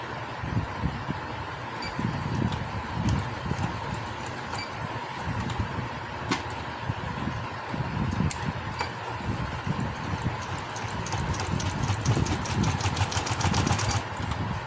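A sewing machine stitches the folded inner hem of palazzo trouser fabric, a steady mechanical whir running continuously at moderate volume with faint rustling.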